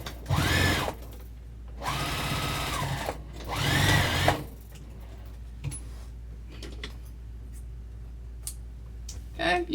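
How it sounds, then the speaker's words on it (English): A sewing machine stitches a vinyl tote bag at a half-inch seam, running in three short close bursts of rapid whirring, then quieter handling noises and brief pauses between. "now I'm just doing the same thing, sewing at"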